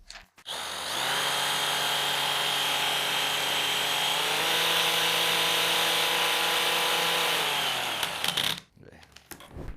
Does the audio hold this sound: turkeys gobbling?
no